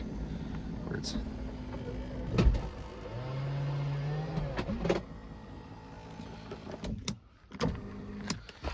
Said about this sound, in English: And then to move the seat back, simply just push back.